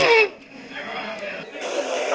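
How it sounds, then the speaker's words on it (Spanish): A homemade trumpet built from a garden hose, a balloon and masking tape, giving a brief loud buzzing blast at the start, then a softer wavering tone that fades and returns, close and alone. "Es una trompeta. Lo he construido con una goma de regar,"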